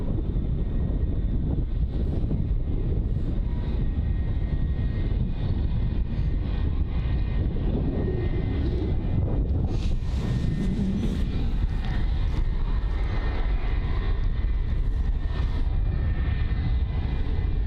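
A Challenger 350 business jet at London Luton airport makes a steady, broad engine roar heard from a distance, with wind buffeting the microphone throughout.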